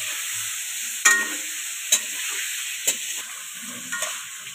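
Carrots and beans fry in oil in a kadai with a constant close sizzle and hiss. A few sharp scrapes from a stirring spoon break through at roughly regular intervals.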